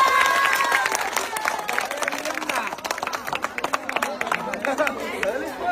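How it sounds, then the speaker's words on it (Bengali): A crowd at a giveaway event claps loudly in quick, uneven bursts, with people chattering and shouting in the background throughout. "সবাই একটা জোরে তালি দিবেন"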